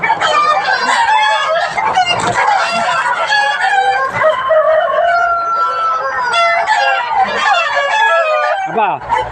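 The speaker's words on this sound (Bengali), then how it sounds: "দেখেন কল্পনা আপা কিন্তু রোদে এই মুরগিগুলো আসলে রাখতে চাচ্ছে না" Tiger chickens on a poultry farm of several thousand birds, a dense, loud chorus of clucking and crowing from many hens and roosters, continuous throughout, with people talking faintly underneath.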